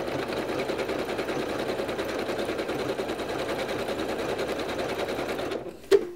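A sewing machine runs steadily, stitching decorative stitches across fabric with a fast, even mechanical whir that stops abruptly near the end, followed by a single sharp click.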